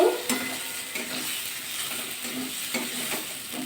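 Golda prawns sizzling in oil and masala in a pan, with a steady hiss and repeated scraping strokes of a spatula stirring them, close and clear with no talk.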